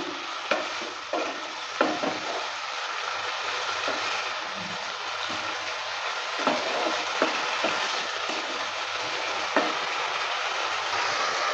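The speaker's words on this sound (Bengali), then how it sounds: "জলটা দেওয়ার পর ভালো করে আবারও নেড়ে চেড়ে নিচ্ছি।" Spices and chopped banana flower are stirred in a pan after a splash of water, producing irregular scraping strokes of a spatula over a continuous close sizzle with no talking.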